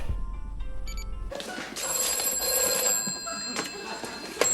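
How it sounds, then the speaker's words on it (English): A telephone bell rings repeatedly in a steady, bright trill, loud and close, after a short stretch of low background hum, with faint other sounds underneath. "I just got to answer this phone call now."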